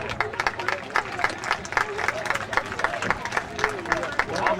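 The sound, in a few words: audience applause at a baseball awards ceremony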